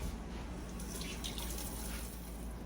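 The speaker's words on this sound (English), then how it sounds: "Wash my hands." Tap water runs steadily as hands are washed at a kitchen sink, a continuous close broadband splash and hiss with no talking.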